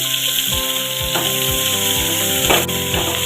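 Garlic dropped into onions frying in oil for a wheat-flour dosa dish, giving a steady, loud sizzle with occasional stirring scrapes.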